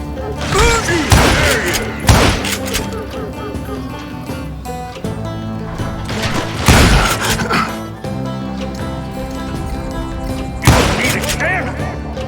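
Gunshots ring out in the Call of Juarez Gunslinger western shooter, several loud sharp bursts spaced a few seconds apart over a continuous game music bed, with talk alongside.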